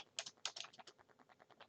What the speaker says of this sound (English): Or you could just type in intro